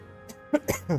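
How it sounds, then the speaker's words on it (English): A short rough cough from a person, two or three quick bursts close to the microphone within about a second. "This cough's going to be annoying."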